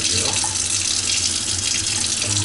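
Hot water pouring from a sink faucet with a hose attachment, a loud, close, steady rushing splash with no breaks.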